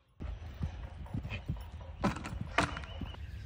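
A horse canters during a showjumping lesson, its hooves thudding in a quick, rhythmic clip-clop, close by but fairly quiet, with a couple of louder footfalls and no speech.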